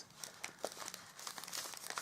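Small plastic bags crinkle and rustle in close handling, a steady run of crisp crackles and brief crunches with no talking.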